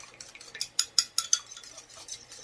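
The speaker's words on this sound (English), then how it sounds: "Get you a little fork and whisk it together." A fork whisks buttermilk in a bowl for pie crust, giving a short run of light metallic clinks and taps against the dish. A few sharp strikes stand out in the middle before the sound fades.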